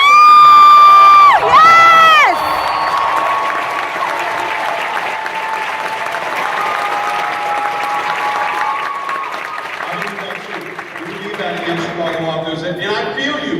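A large crowd at a rap concert cheers and applauds loudly, with high whoops and shouts at first, then sustained clapping and voices continuing throughout.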